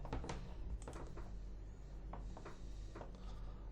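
Keys tap on a computer keyboard while text is typed into an Excel spreadsheet, quick light clicks in small clusters, faint and close over a low room hum.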